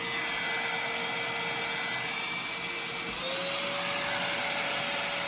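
A COCBNY cordless vacuum cleaner runs continuously with a loud, steady motor whine and airflow hiss; partway through, the pitch shifts slightly as the suction mode changes.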